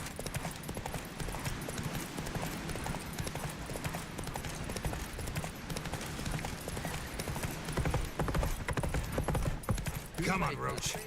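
Geralt's horse Roach galloping in The Witcher 3, a rapid continuous clatter of hooves under game music and effects, with no speech.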